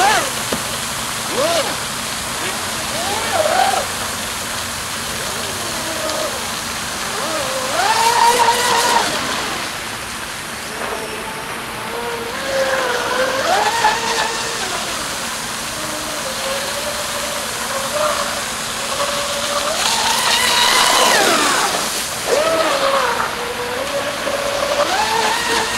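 An Apparition RC catamaran boat on water, with HobbyKing 200 amp ESCs on 6S power, revs its electric motor in rising and falling whines over a steady water rush, while people exclaim and talk.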